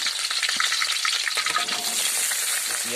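Green chilli and onion fry in hot oil with a steady, dense sizzle and crackle, punctuated by light stirring scrapes, close and continuous throughout.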